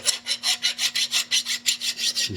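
A metal hand file rasps burrs off the corners of a metal part in quick, even back-and-forth strokes, about a dozen in a row, close and loud.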